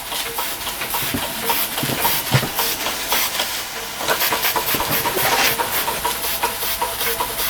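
An American Weeden No.900 model steam engine runs with a steady loud hiss of steam overlaid by quick rhythmic chuffing and clicking, close by and without talk.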